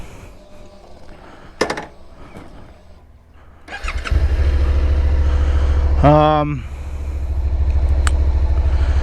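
A motorcycle engine starts up and settles into a steady low rumble, close by, with a brief revving rise partway through and some clatter before it catches.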